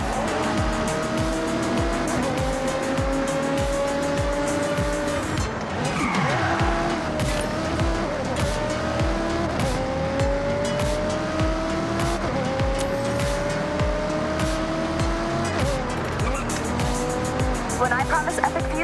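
A race car in Forza Horizon 6 roars through corners near Tokyo, its engine rising and falling through repeated gear changes and its tires squealing in long skids. A voice talks over the continuous, loud driving.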